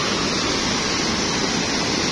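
A river in the Semeru area of Lumajang, its bed strewn with large boulders left by a lahar flood, rushes past in a loud, dense, continuous roar of water with no voices.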